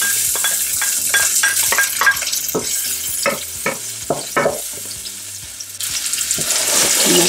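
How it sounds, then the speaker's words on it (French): Food sizzles and crackles in hot oil in a pan, a steady frying hiss with intermittent stirring clatter. "une fois que l'huile est chaude, je verse l'oignon."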